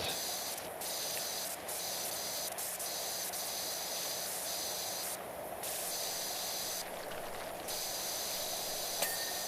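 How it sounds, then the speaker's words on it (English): Pressure washer spray in PowerWash Simulator 2 cleaning a farm barn, a continuous close hiss broken by a few short gaps where the trigger is released, with no voices. "Alright, spray that"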